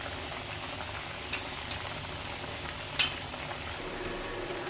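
Fish is added to a boiling light curry broth with bottle gourd greens and potatoes, producing a low steady simmering hiss with a couple of faint clinks, close but quiet and without speech.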